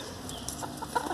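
Hamburg chickens clucking softly in a coop with perches, a few brief, faint clucks and chirps over a low background hum.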